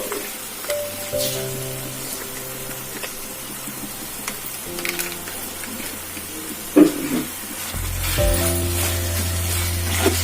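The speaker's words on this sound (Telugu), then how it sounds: "ఇప్పుడు ఆయిల్లో పచ్చిమిరపకాయలు తొక్కు ఉడికిపోతుంది కదా మగ్గుతుంది" Green chili paste simmering in hot frying oil for a potato curry to serve with dosa, a steady soft sizzle and hiss with kitchen clatter and a few sharp knocks, no talking.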